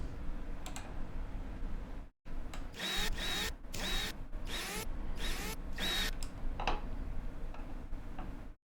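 Screws are driven in with a power tool in the Rover Mechanic Simulator video game, with about seven short buzzing bursts in a quick, regular sequence, close and clear with no talking.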